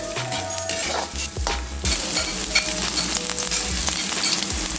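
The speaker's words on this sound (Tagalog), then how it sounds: "Lagyan natin yung bawang, minced bawang, and onion," Minced garlic and onion sautéing in hot oil, with a dense, steady sizzle and the occasional clink and scrape of a utensil against the pan, close up and fairly loud.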